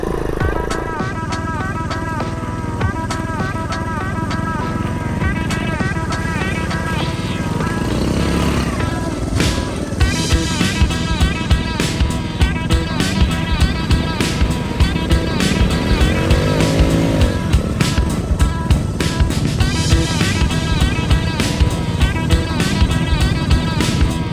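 Vintage Honda ATC off-road trikes, an ATC70 and an ATC125M, ride through mud on a woodland trail. Loud, steady small-engine drone with revving and shifting pitch continues throughout, close to the rider.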